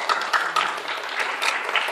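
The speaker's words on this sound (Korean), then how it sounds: "박수 부탁드립니다" Press conference audience in a hotel theater gives a short round of applause, light scattered claps lasting under two seconds, moderately quiet.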